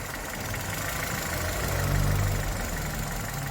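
A Chevrolet Spark's engine idles roughly with a vibration fault, a low steady hum with a slight swell and uneven pulsing midway, heard close with no talking.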